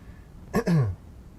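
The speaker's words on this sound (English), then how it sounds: "Sorry, I'll try not to cough so much." A man with phlegm from heavy smoking gives a quick, close throat-clearing cough, two short rough bursts in a row against an otherwise quiet background.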